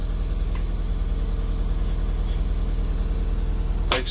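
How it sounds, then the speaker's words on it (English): An MCI coach bus engine runs on high idle while building air pressure, a steady, close diesel drone with an even low throb and a brief sharp click near the end. "we've got it on high idle right now, and it's building air pressure"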